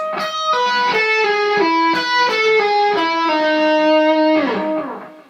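An electric guitar plays a quick five-note phrase run of bright, sustained notes in a steady rhythm, each note ringing into the next, with no talking.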